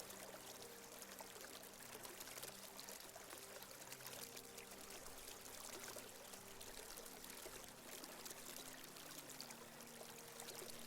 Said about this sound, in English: attention only on the sound of the water